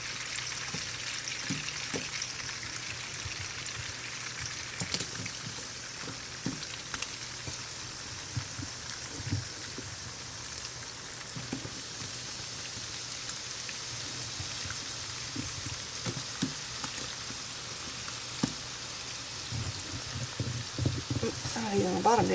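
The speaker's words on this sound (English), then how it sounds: "when that heats up, we'll start throwing this in there and get it fried up" Food sizzles and crackles in a big Mac Daddy pan as it fries, a steady, soft hiss with scattered pops running throughout, with occasional talking over it.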